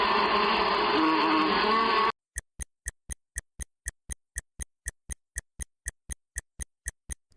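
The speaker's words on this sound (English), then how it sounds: "Time's up It's a bee" Bees buzz as a dense, steady drone for about two seconds, then stop abruptly and give way to a regular series of sharp timer ticks.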